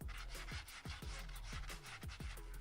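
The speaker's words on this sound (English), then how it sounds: "I gave it a quick sanding down with a high grit sanding block" A high-grit sanding block rubs back and forth over an old hacksaw blade, steady rhythmic scratchy strokes about three per second, close and quiet with no talk.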